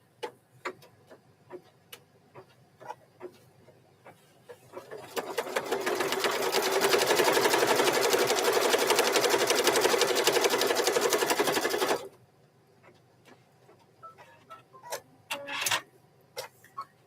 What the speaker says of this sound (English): Stitch the placement line for the top border.